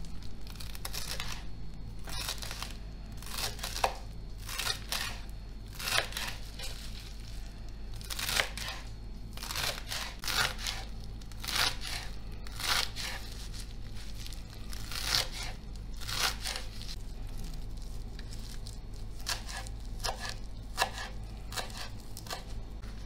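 A knife chops fresh parsley on a board in quick, irregular crisp cuts, close and fairly soft, with a low hum underneath and no talking.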